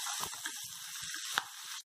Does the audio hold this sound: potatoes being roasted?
yes